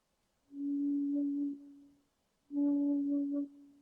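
Two sustained, pure whistle-like flute tones, each about a second long, separated by a short pause, soft and steady.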